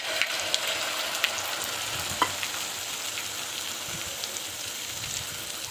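An egg omelette fries in a pan with a steady, close sizzle that continues without a break and is dotted with a few faint clicks, and no one speaks.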